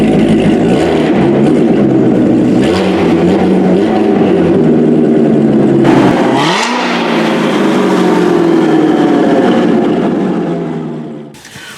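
A Corvette C7 V8 with a throaty but toned-down exhaust fires up and revs hard, its rising and falling pitch swells up close, then dips before fading out, with no one talking.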